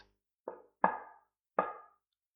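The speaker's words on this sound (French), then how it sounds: "on frappa bientôt à la porte" Knocking on a door in a told fairy tale, three sharp wooden knocks spaced unevenly, close and clear against silence.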